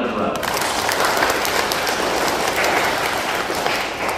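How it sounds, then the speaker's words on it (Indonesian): Applause from a school gathering honoring parents at a children's First Communion celebration, a steady dense patter of clapping sustained throughout, with voices mixed into the crowd. "Tepuk tangan untuk orang tua."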